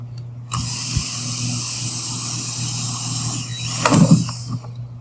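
A power drill bores a 1 1/4 inch clean-out hole near the bottom of a swirl filter container, running as a steady loud whine with a brief heavier grinding burst near the end.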